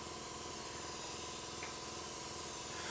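An airbrush sprays thicker paint that has built up at the front of the nozzle, making a continuous even hiss that stays steady and moderately quiet throughout, with no voices.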